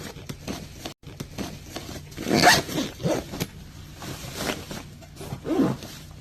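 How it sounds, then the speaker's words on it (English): A packing cube's zipper is pulled close by in a few uneven strokes, with rasping bursts between quieter handling and fabric rustle. "I wonder if this zipper got spoiled because I don't feel too stable"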